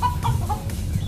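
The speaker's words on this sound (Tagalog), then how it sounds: "May mga manok na sana," Chickens cluck nearby in short, irregular bursts over a low background rumble in Kuwait.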